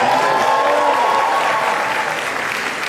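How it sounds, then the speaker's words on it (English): Loud, dense applause from a fashion show crowd at an award presentation, sustained throughout and tapering slightly at the end. "give a big round of applause"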